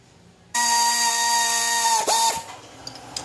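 A ratchet loosens a 14mm bolt on an alternator with a loud, steady mechanical whine lasting about two seconds, briefly dipping before stopping, followed by a few faint clicks.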